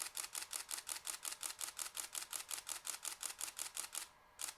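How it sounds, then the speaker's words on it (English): A rapid, even burst of about two dozen Nikon Df camera shutter clicks at 1/500 second fires in steady rhythm, then stops abruptly as the buffer fills. "we'll set a shutter speed of a 500th of a second, and we'll just rattle off a bunch of shots."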